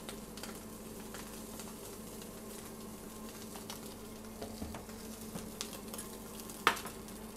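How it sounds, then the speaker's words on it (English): Sea bass fillets fry in a hot pan with a steady, quiet sizzle that runs throughout, broken by a few light clinks and one sharper tap near the end. "we're going to fry it just for a minute or so on each side, just to get a nice golden brown colour"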